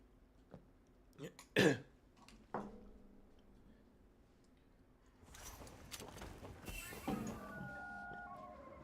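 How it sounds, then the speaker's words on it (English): A man clears his throat with a couple of rough, close rasps followed by a harsher cough-like burst, then a quieter stretch with muffled background noise and movement. "Sorry, I keep having to clear my throat."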